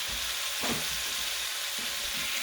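A large amount of ground beef fries in a pan, giving a steady, even sizzle throughout, with a brief stirring scrape partway through.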